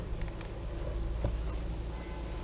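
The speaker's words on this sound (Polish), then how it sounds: "Idzie pszczółki spokojne, mimo że nie ma pogody zbytnio," Honey bees hum steadily around their hive during a calm spell, a continuous close buzz with no talk over it.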